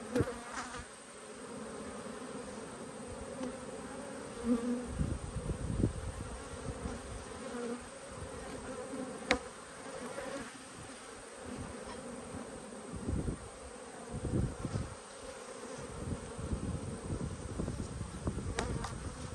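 Honey bees buzz up close around an open hive during an inspection, a steady droning hum with occasional louder passes near the listener and no voices.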